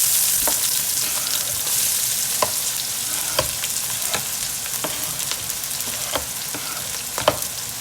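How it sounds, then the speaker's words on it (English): Onion, scallion and shallot hitting hot oil in a pan for American-style Chinese fried rice, a loud close steady sizzle with occasional sharp pops and crackles throughout, no voices. "So in goes our onion, our scallion, and our shallot."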